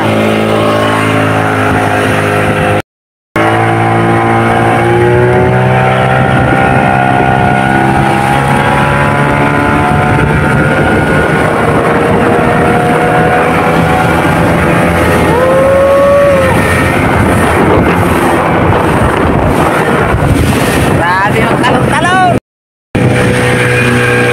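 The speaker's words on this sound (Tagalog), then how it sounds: "Mabilis din pala itong sasakyan nila. Kahit maliit ang makina." A small vehicle with a tiny 15-powered engine drives steadily along, its engine droning loud and close for most of the stretch, with a couple of brief dropouts and some wavering tones riding over the rumble.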